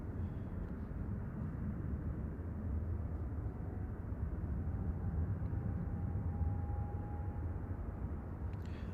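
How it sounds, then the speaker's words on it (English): Emirates Airbus A380 airliner arriving at Manchester Airport from Dubai, a steady, distant broadband engine roar that holds level throughout with a faint whining tone, no voices. "Here is flight 21 from Dubai, A380 A6 EOR"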